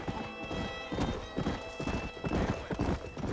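Steady clip-clop of horse hooves trotting close by in the video game Red Dead Redemption, with a horse whinnying over the rhythmic footfalls.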